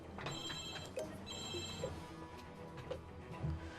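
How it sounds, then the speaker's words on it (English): A phone rings in short electronic trills, two bursts close together and faint, heard on its own without talk. "That was my phone going off."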